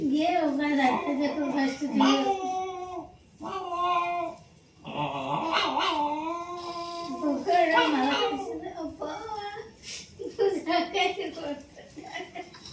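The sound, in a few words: person imitating a puppy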